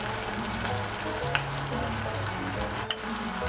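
Chopped sun-dried tomato sautés in a pan for a hearts-of-palm stroganoff filling, giving a steady close sizzle with a couple of light stirring clicks.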